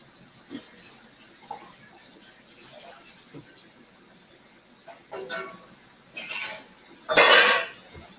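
Zucchini rinsed at a kitchen sink, with faint running water and soft handling, then several louder clatters of dishes and a colander near the end.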